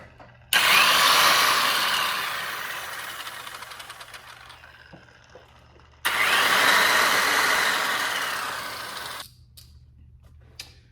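A cyclo dual-head polisher runs in two bursts, each starting abruptly with a loud whirring hum that slowly fades as it winds down, with a brief quiet gap between them.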